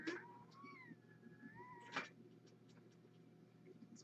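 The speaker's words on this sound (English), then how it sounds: "Are you hearing baby kitties, Jemima?" Baby kittens meowing nearby, with a couple of drawn-out, wavering mewls followed by a sharper short cry, fairly faint over a quiet room.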